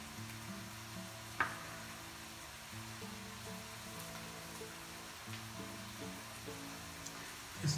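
Chopped onion and a little chili browning in a pan for a one-pot lasagne, giving a faint, steady sizzle with one sharp clink near the start, set against a quiet tonal background.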